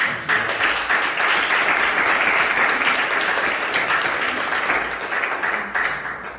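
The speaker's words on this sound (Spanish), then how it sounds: "Denle un aplauso" Applause from a church congregation on Palm Sunday, a full, even roar of many hands clapping that holds for several seconds before tapering off, with no talking over it.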